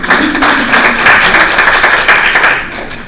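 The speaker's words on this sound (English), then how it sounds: "A round of applause." A school audience of students and teachers claps in a dense, steady round of applause that fills the room, close and loud, fading slightly at the end.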